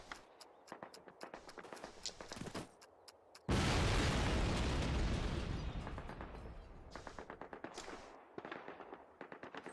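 In the Call of Duty video game, planted explosives blow up a flak gun. One loud, close blast roars and rumbles for several seconds, with crackling gunfire and pops before and after it.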